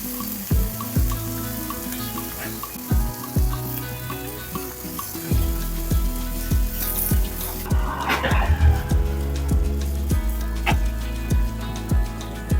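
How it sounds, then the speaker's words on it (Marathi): Finely chopped tomatoes sizzle and fry in a pan over a medium flame, a steady close crackle with repeated clacks and scrapes of a stirring spoon, growing busier midway. "बारीक चिरलेले टोमॅटो घेतले, ते घालूया. मध्यम आचेवरती छान खरपूस भाजून घ्यायचं आहे."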